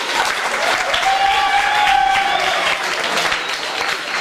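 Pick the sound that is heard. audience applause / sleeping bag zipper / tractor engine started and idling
audience applause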